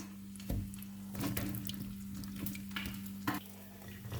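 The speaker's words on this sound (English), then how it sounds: "I'm just gonna wash the blueberries a bit." Blueberries being rinsed under a running kitchen tap, with a steady close stream of water over a constant hum, broken by a few splashes and knocks of the fruit being handled; no voice.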